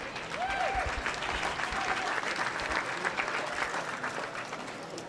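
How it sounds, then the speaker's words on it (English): Sustained audience applause at a swine show, a steady wash of many hands clapping throughout with faint voices underneath. "So give them a big round of applause"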